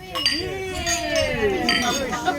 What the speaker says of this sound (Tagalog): As a symbol of commitment, let's have a toast.